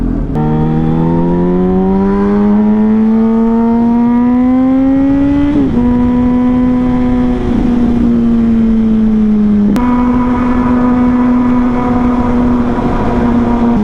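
A single motorcycle engine revs up steadily, dips, then holds a rising and falling drone, loud and close with no talking.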